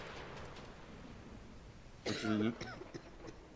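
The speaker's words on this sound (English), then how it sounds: "You have a cough." A single harsh cough bursts out near the close after a quiet stretch, followed by a few faint murmurs.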